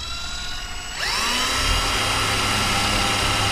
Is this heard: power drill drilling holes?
yes